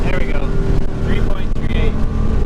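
Modded Nissan GTR launching from a standstill, its engine roaring hard under heavy acceleration with rising tones, loud and close, with a voice speaking over it.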